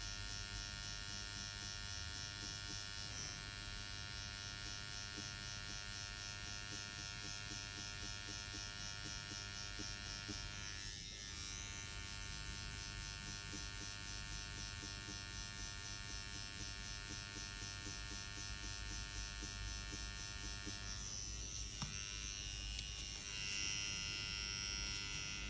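Electric hair clipper buzzing steadily and close for the whole stretch as it sweeps over hair to blend a shadow fade, with brief shifts in tone where the blade passes change; no talking.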